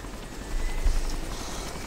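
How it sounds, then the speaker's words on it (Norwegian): A helicopter engine idles steadily in the DayZ video game, a continuous low rotor drone with a faint high whine, loud and unbroken throughout with no talk. "Helikopter er enda i gang, altså."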